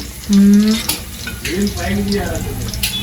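Onions frying with dry red chillies and cloves in a pan for mutton fry, a close sizzle with stirring and clinks as a voice speaks over it.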